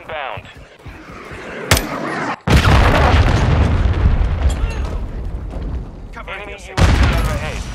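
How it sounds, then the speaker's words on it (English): Cruise missile strikes in Call of Duty Modern Warfare 2 Domination multiplayer, a sharp crack followed by a heavy booming explosion and a long rumbling roar, with a second blast near the end and game voices calling out between. "Friendly cruise missile inbound."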